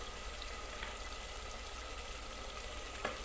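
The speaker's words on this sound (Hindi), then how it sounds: "ये मसाला हमारा भून रहा है।" Spiced masala with turmeric frying in a pan, a steady soft sizzle and crackle at close range with a faint pop near the end, no voices.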